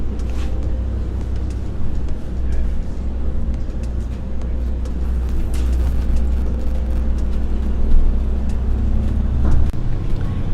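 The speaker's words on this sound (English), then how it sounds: "We made it onto the bus." Riding a bus to the Madrid airport: a steady low engine and road rumble fills the cabin throughout, with faint clatter and muffled background chatter layered over it.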